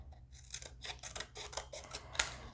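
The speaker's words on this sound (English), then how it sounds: "then you're going to cut the strips." Scissors cut paper strips in a series of quick, crisp snips at close range, fairly quiet and steady, with a slightly sharper cut near the end.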